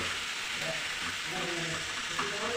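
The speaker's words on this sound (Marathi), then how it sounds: "लाल भोप्याच्या फोडी घालणार आहे आता आपण परतून घेऊया" Pieces of red pumpkin sauté over a low gas flame for a spicy Konkan-style pumpkin subji, making a soft, steady sizzle with occasional scraping and stirring sounds close by.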